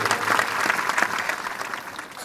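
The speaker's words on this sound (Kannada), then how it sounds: "ನಿಮ್ಮೆಲ್ಲರಿಗೆ ನಮ್ಮೆಲ್ಲ ಯುವಕ ಮಂಡಳಿದ ಜೋರಾದ ಚಪ್ಪಾಳೆಯನ್ನು ಕೊಡಬೇಕು" A village audience at a Devi Purana religious programme in Konasirasagi claps in dense, continuous applause that stays loud and even throughout the short burst.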